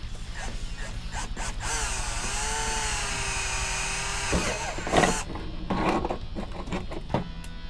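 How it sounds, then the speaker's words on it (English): A power drill whines steadily at high speed, its pitch dipping and rising as it bites into material, then stops and restarts in short bursts, drilling a hole from the back side of a DIY solar panel. "and drilling it from the back side"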